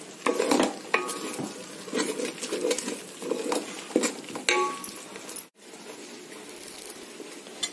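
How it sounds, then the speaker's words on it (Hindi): Nahari paya browning in oil in a pot, stirred steadily with a spoon: dense sizzling and frying hiss broken by repeated scraping and clinking strokes, with a short silent dropout partway through and no talking. "अच्छे से तेल आया तक इसे अच्छे से भून लेंगे।"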